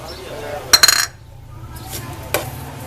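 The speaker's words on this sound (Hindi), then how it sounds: "चीनी को अच्छे तरीके से मिक्स कर लें।" A spoon stirs sugar and crushed chili in a pot of chilli garlic ketchup, with a few quick metallic clinks against the pot, then a softer scraping stir and one more clink near the end.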